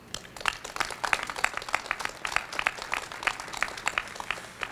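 Scattered applause from a press conference audience at a mayor's event in Philadelphia, a loose stream of claps at moderate distance that fills the whole stretch evenly.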